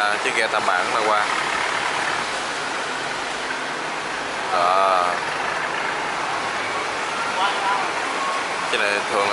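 A steady rumbling engine drones from a boat passing through a canal lock among barges, with broadband wash noise and someone speaking over it now and then.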